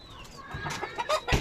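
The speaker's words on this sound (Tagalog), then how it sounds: "Saka mga manok." Chickens cluck softly nearby in short, scattered calls over a faint background murmur.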